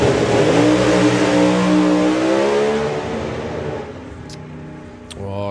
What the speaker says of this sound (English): John's car didn't sound like it was going to shift gear there